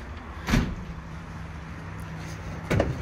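Side sliding door of a 2020 Chevrolet Express work van at a car dealership in Raleigh, North Carolina, with two distinct clunks about two seconds apart, one as the door releases and one as it slides, over steady outdoor ambience.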